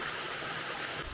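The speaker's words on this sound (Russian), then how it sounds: "вот это вот маленькая струйка, это весь водопад" A small trickling waterfall in Butterfly Valley near Ölüdeniz, Fethiye, gives a steady, close hiss of falling water that carries on evenly throughout.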